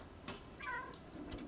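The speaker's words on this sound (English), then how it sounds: "Meow." A cat gives a single short, faint meow in the video game Stray, heard over quiet background ambience.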